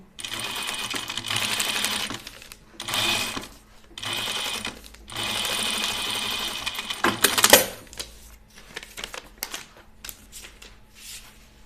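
A sewing machine stitching a Lucerne blouse, its needle running in several short bursts with pauses between, close and clear, followed by lighter handling clicks and rustles.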